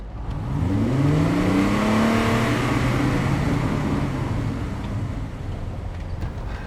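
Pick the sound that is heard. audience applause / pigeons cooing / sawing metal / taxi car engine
taxi car engine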